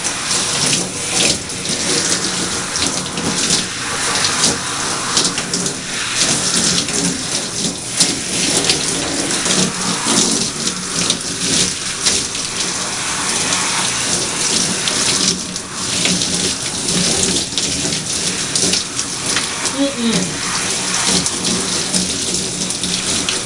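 Steady running water pours continuously while hair conditioner (Creme of Nature with argan oil) is rinsed out, a loud, even rush like a faucet or shower stream with no voices over it.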